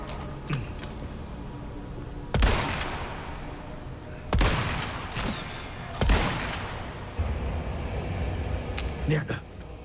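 Gunfire from a powerful weapon in the video game Resident Evil 4 Remake cracks in three loud, widely spaced shots, each trailing into a short echoing decay over a low background of game ambience and faint talk.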